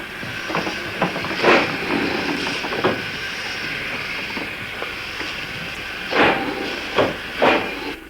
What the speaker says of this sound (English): odd vehicles appeared, old steam engines.